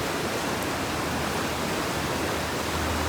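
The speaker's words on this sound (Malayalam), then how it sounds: "വെള്ളത്തിന് ഒഴുകാനുള്ള സ്ഥലവും കുറവ് അതുകൊണ്ട് വെള്ളം കുത്തി വലിച്ചു വരുകയാണ്" Monsoon-season water rushing hard through a narrow stream channel, a loud steady broadband roar close by, with no voices.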